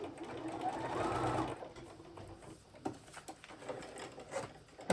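A sewing machine stitches paper-pieced fabric, a soft whirring run at the start, followed by quieter scattered clicks and rustles of handling, all faint and close.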